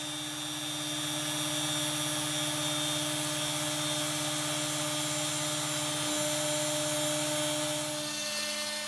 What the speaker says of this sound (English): I'm cutting the slots here using my CNC machine and a very small spiral upcut end mill